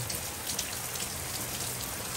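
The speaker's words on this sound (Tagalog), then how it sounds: "Ayun kita nyo, lalaki pa ng patak ng ulan." Heavy rain pours down steadily in a dense, unbroken patter of large drops, close and loud, with no voices over it.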